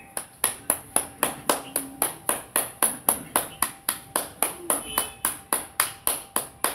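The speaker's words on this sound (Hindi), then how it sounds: "और एक बार ताली शुभ करना।" Steady hand clapping during a yoga exercise, about two sharp claps per second repeating evenly and close, with no talk over them.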